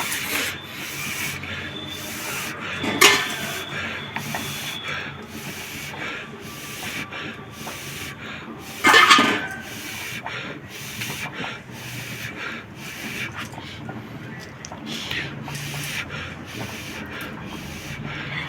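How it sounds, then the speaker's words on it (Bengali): Charred skin is peeled off a fire-roasted eggplant with soft, continuous close rubbing and scraping and two louder rasping strokes, with no talking. "দেখুন কি সুন্দর খোসাগুলো পরপর উঠে যাচ্ছে।"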